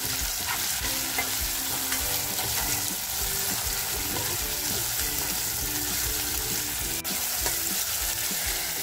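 Bay leaf and whole spices sautéing in a pan for a village-style mutton masala curry, with a steady loud sizzle and scraping stirs throughout, no voices.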